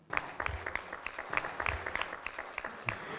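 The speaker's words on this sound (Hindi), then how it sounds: "मैं चाहूँगा कि ज़ोरदार तालियाँ दलजीत जी के लिए" Crisp, fairly sparse clapping rings out from the audience at the Miss & Mr India grand finale pageant, with individual sharp claps standing out clearly and close.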